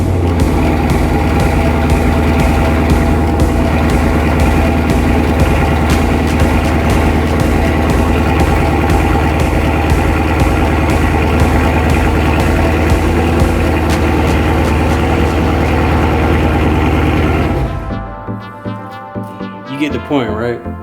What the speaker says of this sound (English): let me go ahead and crank the car up now